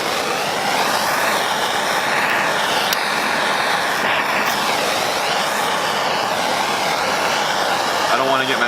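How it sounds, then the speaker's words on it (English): Blowtorch heating a part during a jet ski engine rebuild, a loud, steady roaring hiss that carries on without a break, close to the mic. "I'm going to use some blowtorch to heat it up."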